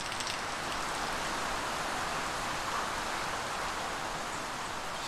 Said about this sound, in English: you can still hear the rain outside